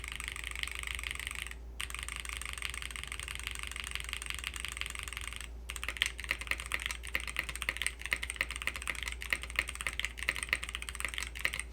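Fast, steady clacking comes from a Ducky One X Mini foam-filled mechanical keyboard, with two brief pauses between bursts of keystrokes, all sitting over a faint constant low hum.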